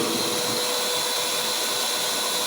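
A powerful special blower forces air into a forge fire in a large burning chamber, making a loud, constant, even roar with no breaks for its full length.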